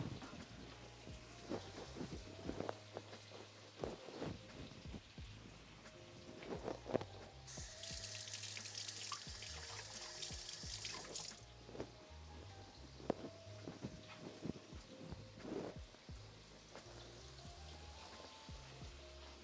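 Kitchen tap water runs briefly over a hand during the making of ginger sesame chicken noodle soup, a faint rush of about four seconds amid quiet scattered clinks and handling noises.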